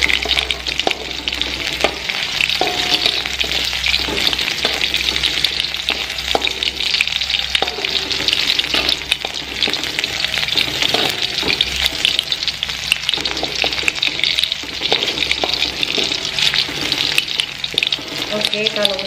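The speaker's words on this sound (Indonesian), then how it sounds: "aku mau tumis ini dulu, bawang putih dan juga jahe" Garlic and ginger sautéing in oil in a pan for a homemade Taiwanese hot pot, a steady close sizzle running the whole time with occasional stirring clinks and scrapes.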